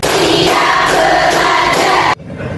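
A school class chants and claps together in a rhythmic ice-breaker, a loud, dense group sound of voices and hands that stops abruptly near the end, leaving quieter room noise.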